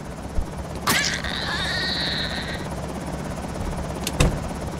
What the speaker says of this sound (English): That helicopter's fucking everything up,